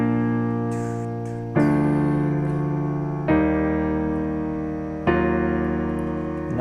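Piano chords ring out one after another, a four-chord intro, each struck chord left to sustain and fade before the next, played alone with no voices.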